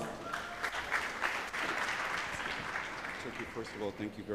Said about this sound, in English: let us all welcome on stage with a round of applause